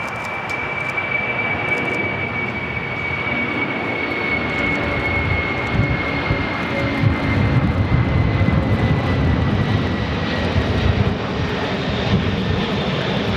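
Kalitta Air cargo jet taking off from LAX, a sustained loud engine roar with a steady high whine and deep rumble building as the aircraft climbs away.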